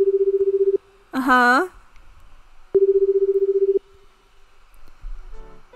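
Within a video game, a phone line buzzes in repeated ring tones: a pulsing tone burst, a short voiced sound, then another long pulsing tone, with a brief utterance from a voice between.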